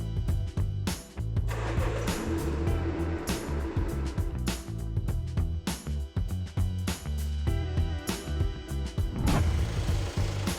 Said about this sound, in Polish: Uruchomię silnik, a następnie włączę wszystkie przełożenia skrzyni biegów.